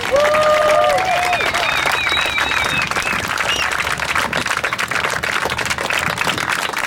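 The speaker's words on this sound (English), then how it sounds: "So how about a round of applause for Justin Barker?" Outdoor crowd applause at a GMO protest march rally in Hale'iwa, a steady wash of clapping and some cheering sustained for several seconds, with a few whistles or voices rising above it early on.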